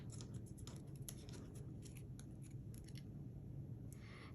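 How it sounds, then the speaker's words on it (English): A bone folder creases a paper collar for a craft box project, giving soft, close, rapid scratchy rubbing strokes that repeat steadily over a quiet background. "I'm going to go over that with my bone folder a little bit just to make it nice and crisp"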